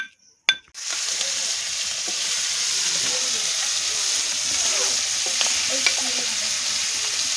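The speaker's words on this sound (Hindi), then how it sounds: "चिंगुड़ी फ्राए आमर आरंभ होगा" Shrimp fry in a pan with tomato and spice paste, a steady loud sizzle starting after a brief clatter and running continuously, with faint stirring scrapes throughout.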